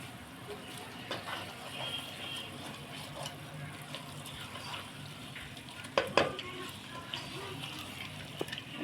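Kala bhuna, a dark Bengali meat curry, is stirred in a pan, with a low continuous sizzle under repeated scraping and clinking strokes, a louder clatter near the end.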